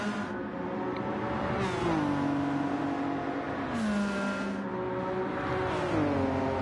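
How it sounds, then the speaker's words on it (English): A McLaren race car in a racing video game accelerates hard, its engine note climbing through gears with shifts and a steady, loud whine, no talk over it. "that one was just McLaren acceleration"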